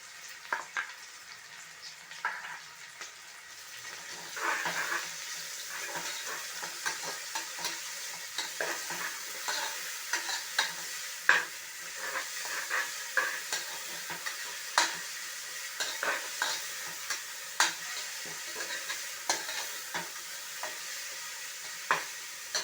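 Onion and ginger garlic paste sauté in a pan on a stove at medium flame, a continuous gentle sizzle under repeated scraping and tapping as a spoon stirs at an uneven rhythm.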